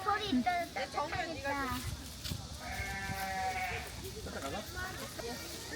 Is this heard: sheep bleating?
yes